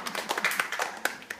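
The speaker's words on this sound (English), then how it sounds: "So if you can give her a little round of applause" Scattered hand claps from a church congregation at an infant's baptism, a short burst of irregular, moderately close clapping with no talk over it.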